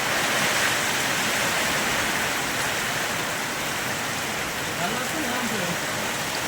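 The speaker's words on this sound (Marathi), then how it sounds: "भरपूर पाऊस चालू झालेला आहे आता" Heavy rain pours down steadily in a dense, continuous hiss that stays loud and even from start to finish.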